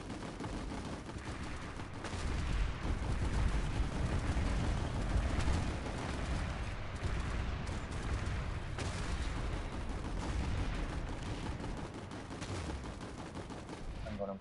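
Dense, continuous gunfire from clearing turrets in the video game Planetside 2, loud and sustained with overlapping rapid bursts and heavy impacts for the whole stretch.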